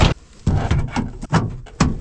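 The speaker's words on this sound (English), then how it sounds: "window roll up, window roll down, door closes, door opens" Car door on a 2.2 Dodge Charger closing and opening, a few solid thunks and latch clunks mixed with rustling handling noise, close by.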